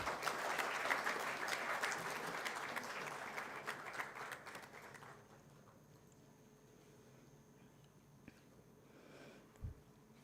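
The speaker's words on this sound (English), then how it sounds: "Let us all welcome them with a huge round of applause." A large audience applauds loudly for about five seconds, then the clapping fades out into quiet room ambience with a few stray sounds.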